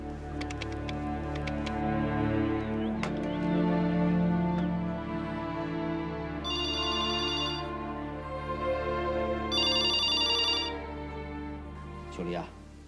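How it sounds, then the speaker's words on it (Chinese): A telephone rings during a drama scene, two bursts of bright electronic trilling in the middle, each about a second long, over steady tonal background music. "给秋离打电话。"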